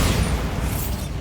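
A Bombarda blast spell in the wizarding game Hogwarts Legacy, a single loud, rumbling explosive boom that fills the short moment.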